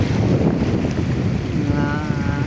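Wind buffets the microphone over open sea while an approaching boat motor drones and grows slightly clearer toward the end.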